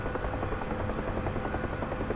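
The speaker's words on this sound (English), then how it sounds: "I love flying helicopters." A UH-1H Huey helicopter in the DCS flight game gives a steady, close rotor thrum with a rhythmic chopping pulse, loud and unbroken with no voices over it.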